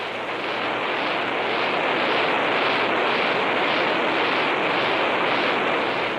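An X-15 rocket engine test run gives a steady, loud, broadband roar that holds unbroken throughout, with a slight pulsing shimmer in the upper range.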